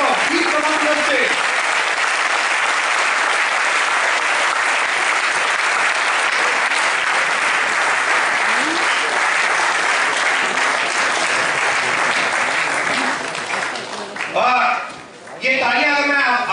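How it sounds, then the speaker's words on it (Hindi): A large audience at a Mumbai corporate tenth-anniversary stage event breaks into loud, sustained applause for about fourteen seconds, dense and even. It then thins out as a voice begins speaking near the end. "मैं रिक्वेस्ट करूंगा एक बार जोरदार तालियां उनके लिए।"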